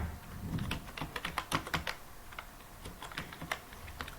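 An ID card number being typed on a computer keyboard makes close, quiet clicking in uneven bursts of keystrokes with short pauses, and no voices.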